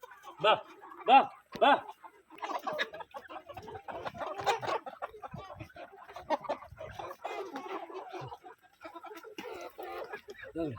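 Giriraja chickens on a poultry farm cluck in repeated bursts throughout, mixed with other bird and farm noise, while people talk nearby.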